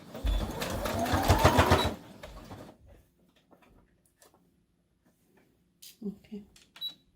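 A sewing machine runs for about two seconds as it stitches over elastic on a pleated fabric face mask, a fast mechanical whir that stops and gives way to quiet handling and soft clicks.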